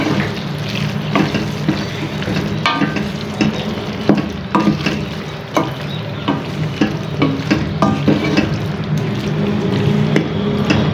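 Keema capsicum curry sizzles steadily in a frying pan while a spoon stirs and scrapes, sounding close with irregular clinks and knocks over the continuous frying hiss, no voices.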